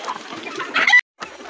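Golden Misri hens and young chicks on a farm cluck in a busy, continuous chatter that grows louder near the end before a brief silence, then resumes.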